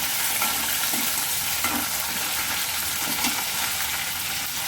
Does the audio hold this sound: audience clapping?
no